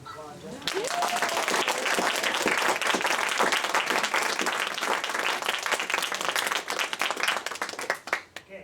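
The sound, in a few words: applause from audience at school debate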